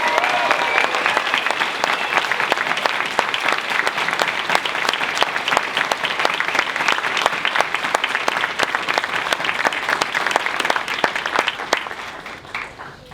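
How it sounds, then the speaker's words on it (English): A graduation crowd gives a sustained round of applause for the IMHS Class of 2024, with loud, dense, continuous clapping that fades slightly at the very end. "please join me in a resounding round of applause for our IMHS class"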